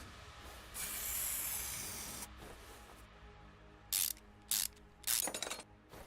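A ratchet wrench taking off rusty bolts in the Car Mechanic Simulator game, a hiss followed by several short bursts of ratcheting clicks, close and clean, no voices.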